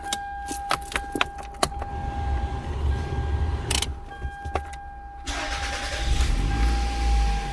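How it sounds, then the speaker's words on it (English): Keys jangle, then a 2001-2005 Toyota RAV4 engine cranks and starts, settling into a steady idle. "Start the car."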